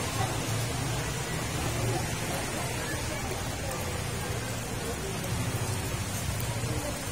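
Steady rain hisses and patters on surfaces at a Catholic cemetery in Pinamungajan, Cebu, on All Souls' Day, a constant wash of noise with faint talking in the background.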